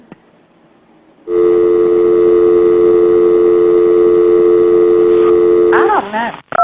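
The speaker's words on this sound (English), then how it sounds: "Do I need to hit the dial tone?" Steady continuous telephone dial tone from a landline handset, loud and unbroken for several seconds after a quieter start, ending with a brief clatter and a short tone as the receiver is handled.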